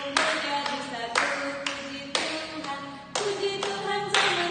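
A church congregation claps along to a lively song in even, rhythmic strokes, loud and close, with singing and accompaniment underneath.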